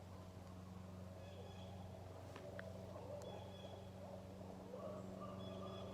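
An owl hoots at night in the woods, faint and distant, its calls rising over a steady low hum.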